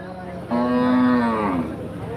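A large cow at a Saturday cattle market in Kaitla, Tangail, lets out one long, loud moo of about a second, close by against low market background noise.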